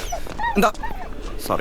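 A dog whimpers and yips in thin, rising whines, fairly close, while a person talks over it.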